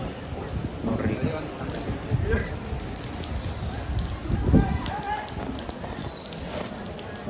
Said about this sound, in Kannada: ಮಳೆ ಫುಲ್ ಐತ್ರಿ